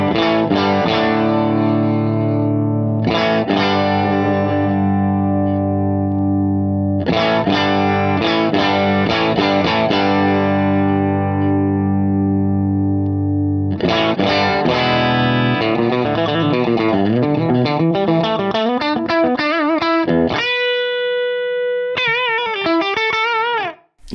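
An electric guitar on the bridge pickup runs through compressors and distortion on an Axe-Fx III, playing sustained chords that ring out between pauses, then quicker picked runs, ending with wavering bent notes; loud and alone.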